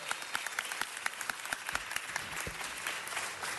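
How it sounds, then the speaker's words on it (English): Audience applause for mariachi performers at a city council meeting, a dense, steady wash of many hands clapping throughout, moderately loud with a few sharper individual claps standing out. "let's give the mariachis a big round of applause."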